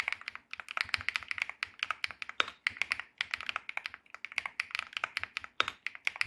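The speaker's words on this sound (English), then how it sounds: "Let's listen to this typing sound together." Quick, crisp keystrokes on a mechanical keyboard with nylon-housed switches, a steady close stream of solid, resonant clacks with occasional louder presses, no voices.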